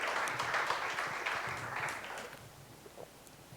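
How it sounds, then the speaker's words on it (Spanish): A church congregation applauds Christ Jesus during a sermon by Pastor Andrés Bernal, a brief burst of clapping that starts full and gradually fades away. "Dele un aplauso a Cristo Jesús"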